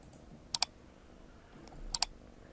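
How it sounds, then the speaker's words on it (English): Two pairs of quick, sharp key clicks from a computer keyboard, the Enter key pressed on a login page, each pair crisp and close against a quiet room hum. "clicking on enter"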